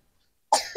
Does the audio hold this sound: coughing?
yes